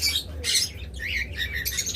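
A pair of pineapple conures gives loud, harsh squawks and chirps in short repeated bursts, close by, with a low background rumble.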